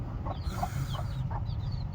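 Chickens and a rooster on a home farm give a few soft, separate clucks and calls at moderate distance over a steady low background hum, with no talking.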